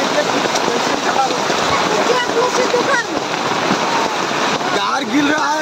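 Heavy rain pours down steadily, a dense continuous hiss and patter close by, with people talking briefly over it.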